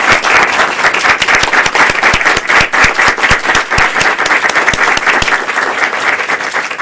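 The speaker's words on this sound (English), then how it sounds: "I would like each person to stand up and let us applaud them." A Toastmasters audience gives debate participants dense, sustained applause, many hands clapping loudly and evenly from start to finish.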